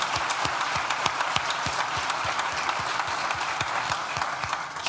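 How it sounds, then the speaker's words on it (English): An audience applauds Christine at a Nottingham Trent University alumni award ceremony, steady dense clapping filling the room at even loudness throughout, with no voices over it. "give a round of applause to Christine"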